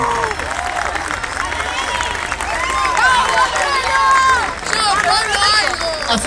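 Audience at a vocal percussion show in a planetarium applauding and cheering, dense crowd noise with whoops and excited voices throughout, swelling near the end.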